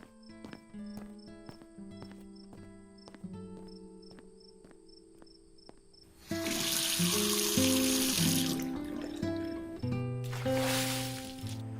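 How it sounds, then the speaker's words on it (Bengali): A tap pours water for a face wash in two loud gushing spells, a longer one and then a shorter one, with steady insect chirping beneath. "দাঁড়াও, আমি মুখটা ধুয়ে আসি"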